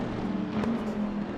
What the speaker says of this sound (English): The sound of that V12.